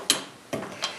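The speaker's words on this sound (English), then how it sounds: "We're just going to go ahead and torque it down." Three sharp clicks from a torque wrench tightening a repaired cylinder head stud on a 2-stroke engine, spaced apart and close by.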